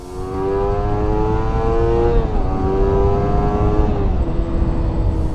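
A Kawasaki Ninja 250 engine, a 248cc eight-valve dual overhead cam, revs hard, its whine climbing and dipping through several gear changes, loud and steady.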